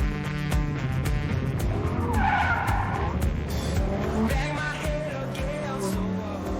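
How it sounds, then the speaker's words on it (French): Lamborghini Huracán STO tyres skidding as the rear drifts, a loud continuous screech over the engine's steady roar, swelling in the middle and running throughout. "petite dérive de l'arrière, la voiture est hyper saine"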